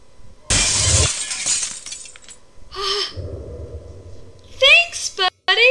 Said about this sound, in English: Stained glass window was shattered.